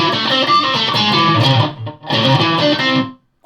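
Electric guitar played through a Zoom 606 multi-effects pedal with reverb feeding a noise gate, two loud distorted strummed bursts that cut off abruptly into silence between and after them.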